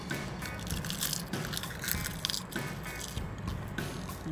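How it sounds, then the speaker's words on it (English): Close, crisp crunching of Trader Joe's roasted seaweed being chewed, a steady run of small bites and crackles with no talk. "I'm still chewing on it."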